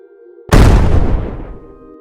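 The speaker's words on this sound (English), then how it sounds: "Explosion after explosion rocked the forest." A single loud, close explosion from an FPV drone strike in a forest bursts out abruptly and rumbles down over about a second and a half.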